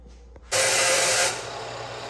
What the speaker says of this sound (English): Now we'll take this over to the bandsaw.